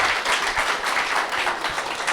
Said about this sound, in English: a round of applause for our costumers here